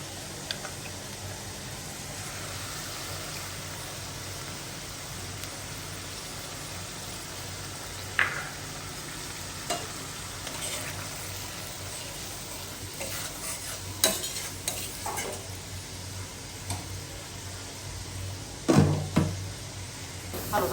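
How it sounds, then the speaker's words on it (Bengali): Ginger-garlic paste and spices fry in a pan while being stirred, a steady low sizzle broken by occasional scraping and clinks of the spatula, louder bursts near the end, with no talking. "এখানে আদা রসুন পেস্টটা ভাজা হয়ে গেছে, আমি মশলাটা দিয়ে দিব"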